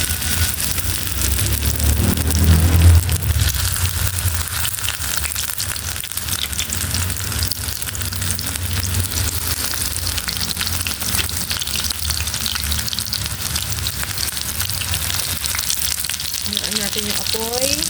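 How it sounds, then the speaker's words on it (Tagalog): Potato tuna croquettes deep frying in hot oil give a steady, dense sizzle and crackle that runs unbroken throughout, close and fairly loud, with no talking. "So, pag mainit na yung mantika, prito na natin."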